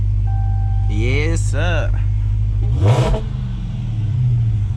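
A Dodge Hellcat's engine rumbles low and steady, swelling into a brief rev as the drive begins, with someone talking over it and a short sweep of another sound passing near the middle.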